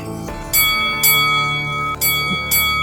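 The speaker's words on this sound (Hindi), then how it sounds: "गली में घंटी बजने की आवाज आती है" Street vendor's bell rung in a night lane, four clear metallic strikes at even intervals, each ringing out and fading before the next, close by and alone.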